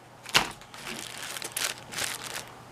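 A plastic bag holding latex gloves crinkles near the microphone in a few sharp rustling bursts separated by softer handling noise, with no talking.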